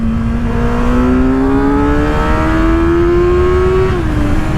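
A Kawasaki ZX-6R 636 motorcycle, a 2024 model, downshifting and accelerating, its engine note climbing steadily in a loud, close, continuous rising whine with a brief dip at a gear change near the end.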